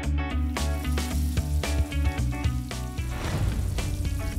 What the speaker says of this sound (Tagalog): Dito sa Angono, piniprito ng buo ang katawan ng itik.